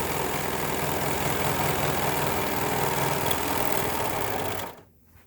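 Sewing machine running a continuous straight-stitch seam, a fast even whirring hum held steadily for several seconds before it stops abruptly, close and alone.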